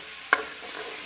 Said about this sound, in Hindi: बहुत अच्छे से हमारा कीमा जो भून चुका है।